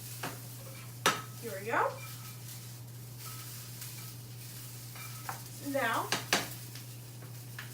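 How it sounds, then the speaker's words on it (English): A spatula stirs and spreads egg and other ingredients in a frying pan, giving a couple of scraping clinks and soft sizzles over a steady hum, while a voice speaks briefly. "I should maybe spread out the ingredients inside the pan"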